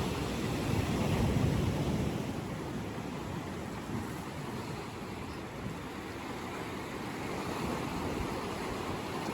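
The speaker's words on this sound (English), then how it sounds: "Focusing your awareness on the gentle sounds of the water lapping at the shore." Ocean waves lapping at a sandy Hawaiian shore, a steady soft wash of surf that swells briefly early on and then settles into an even, continuous hiss with no voices.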